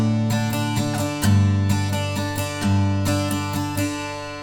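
A guitar strums a song's break section, a steady run of ringing down and up strokes with regular accented chord changes, close and alone.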